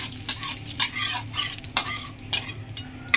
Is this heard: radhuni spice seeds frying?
yes